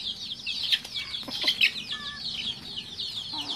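Several chickens and newly hatched chicks cluck and chatter continuously nearby, with a rooster's calls mixed into the busy flock.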